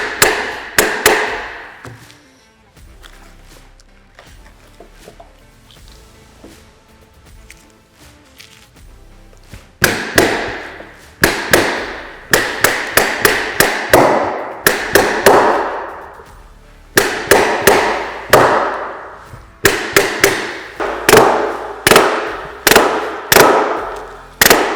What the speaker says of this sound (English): If you're going to use like a dead blow hammer